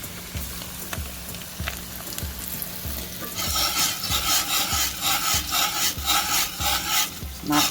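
Fish frying beside creamy cheese grits in a Lodge 10.5-inch cast iron Dutch oven, a steady sizzle with rhythmic scraping strokes that grow louder and busier in the second half.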